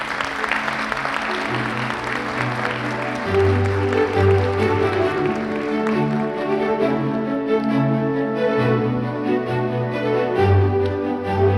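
An audience claps steadily at a Library Week award ceremony in Turkey, with a librarian being honored. The broad applause is loudest at first, then thins as a bass-heavy musical fanfare takes over.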